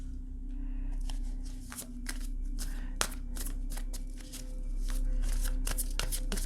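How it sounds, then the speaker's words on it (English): Tarot cards slide and shuffle across a tabletop, with a steady run of soft papery flicks and rustles nearby over a low constant hum. "Let me just move these cards down a little bit."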